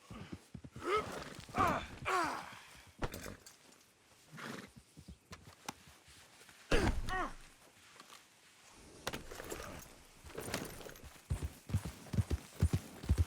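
Horse sounds in Red Dead Redemption 2, with irregular hoof clops, snorts and whinnying breaths in bursts separated by quiet gaps, close and moderately loud.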